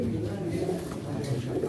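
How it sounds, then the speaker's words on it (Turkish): Pigeons coo repeatedly at a pigeon auction, their soft throaty calls rising close by over a constant murmur of people talking in the background. "içinde iyi kuşlar var."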